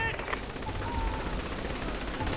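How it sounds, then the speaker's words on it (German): Rapid gunfire in the video game Saints Row The Third during a bank robbery, aimed at a sniper: a dense, continuous rattling burst of shots at steady loudness for the whole stretch. "Da kannst du zum Beispiel jetzt gerade auf den Sniper schießen."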